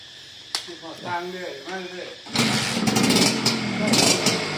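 A motorcycle with freshly repaired wiring is kicked over and its small engine catches, revving loud and close with a buzzy idle, after a voice speaks briefly beforehand.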